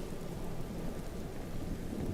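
Steady cold rain pours with a low rumble of thunder in Skyrim, a continuous dense wash of rainfall without any talking.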